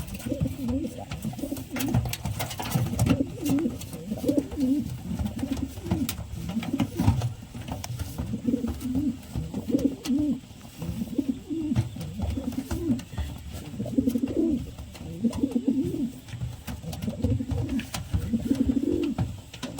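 Breeding pigeons coo repeatedly in low, throaty, rolling calls, several birds overlapping close by in an unbroken rhythmic chorus.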